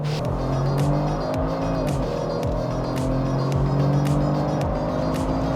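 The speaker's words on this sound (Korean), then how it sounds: "이번에는 컴포트 모드로 바꿔서 다시 가속을 합니다." A Hyundai car accelerates hard in comfort mode, heard from inside the cabin: a loud, steady engine drone climbs in pitch through several gear changes, with road and wind noise underneath.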